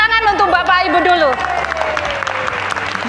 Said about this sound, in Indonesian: Tepuk tangan untuk Bapak Ibu dulu